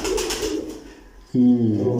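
A mixed-breed pigeon gives a loud, close, low throaty coo that starts abruptly in the second half. Quieter, indistinct sounds come before it.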